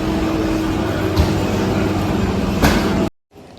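A local train on the Howrah–Bardhaman main line rolls into platform 3, a steady loud rumble of wheels and carriages with a couple of sharp clanks, then cutting off abruptly.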